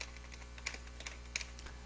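Quiet, irregular keystrokes on a computer keyboard, with a few sharper clicks standing out against faint background hum.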